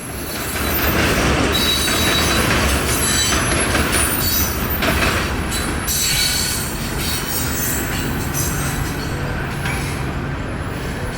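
A CSX freight train rolls steadily past close by, wheels squealing and rails rumbling loudly throughout, with no voices.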